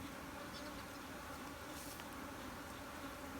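A dense, even hum of many honeybees carries on without a break close by while a beehive is being split, with no one talking.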